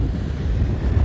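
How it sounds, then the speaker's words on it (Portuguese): Strong wind buffets the microphone on a beach on the south coast of Pernambuco, a steady loud roar of gusts blended with surf, with no voices. "E também os ventos estão muito fortes esses dias aqui."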